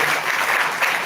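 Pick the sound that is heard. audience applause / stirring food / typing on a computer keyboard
audience applause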